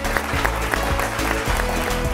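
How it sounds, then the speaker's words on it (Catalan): A studio audience on a Catalan TV quiz show applauds contestants, continuous clapping heard over a looping musical bed that dominates the low end throughout. "Un fort aplaudiment per ells."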